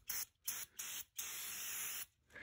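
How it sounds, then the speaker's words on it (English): Several bursts of hissing brake parts cleaner spray, close up, with short pauses between them and one long continuous spray in the middle. "just spray this with brake parts cleaner and wipe it off"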